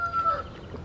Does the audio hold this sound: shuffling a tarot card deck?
no